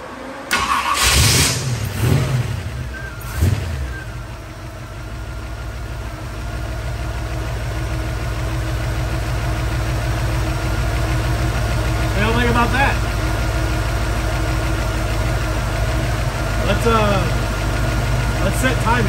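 A 1947 Hudson pickup truck's engine, left sitting abandoned for three years, cranks and fires, then settles into a steady, loud idle that runs on for many seconds, with brief voices over the start.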